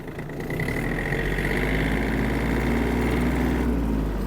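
A Yanmar RS-270 mini tractor's engine runs steadily as the machine pulls away, a close, continuous diesel drone with a constant low rumble and no talking.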